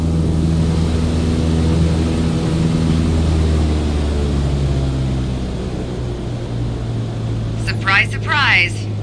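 In Microsoft Flight Simulator, a simulated aircraft engine drones steadily as the throttle is cut, its tone sinking slightly, with a brief voice near the end.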